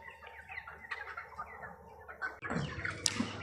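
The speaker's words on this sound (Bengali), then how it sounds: "মুরগিগুলো জড়ো হয়ে আছে।" Chickens crowded together on a poultry farm under a running ceiling fan make faint, scattered clucks and chirps, with a louder flurry of activity near the end.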